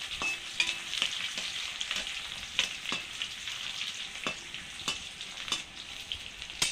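Garlic cloves frying in hot oil for neem begun bhaja, a steady bright sizzle with scattered sharp pops and crackles, close and continuous with no talking.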